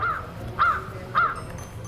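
A crow caws three times at an even pace, moderately close, with quiet background between calls.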